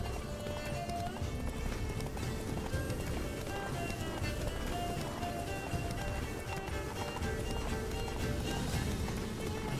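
Roach the horse running in The Witcher 3, steady galloping hoof clatter mixed into dense game audio with music and ambience throughout, with brief talk over it.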